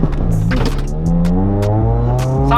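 A motorcycle fitted with a new titanium exhaust revving loud and close, its engine note climbing and dipping through a few throttle blips over about two and a half seconds.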